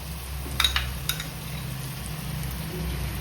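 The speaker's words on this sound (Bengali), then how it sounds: "এটাও একটু নেড়ে নেব। দেব হচ্ছে আদা বাটাটা।" Chicken masala with ginger paste frying in a pan, a soft low sizzle with a few brief clinks of a spoon early on, fairly quiet and steady.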